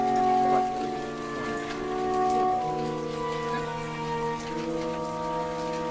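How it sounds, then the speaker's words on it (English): Steady rain falls with a continuous, even hiss. Sustained tonal ambience plays over it, and the rain holds constant throughout. "Too busy enjoying the rain."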